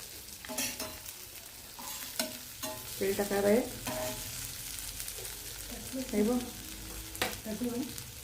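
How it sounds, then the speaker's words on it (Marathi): Bhakas fish, an Alibag specialty, fries crisp in a pan with a soft, continuous crackle and intermittent stirring and turning noises, while voices speak in the background at moments. "परत एकदा उलट्या साईडने तिला छान खरपूस फ्राय करून घेते"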